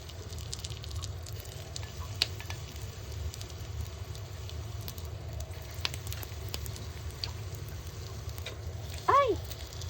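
Stuffed mushrooms and eggplant fry in sesame oil with a soft, steady sizzle and crackle. A brief clatter comes near the end.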